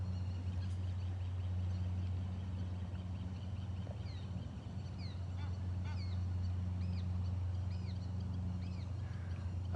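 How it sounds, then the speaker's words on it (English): Egyptian geese in a marsh give scattered honks and short calls over a steady low outdoor rumble, the calls moderately distant and intermittent rather than continuous. "Our Egyptian geese have done it again, a new family."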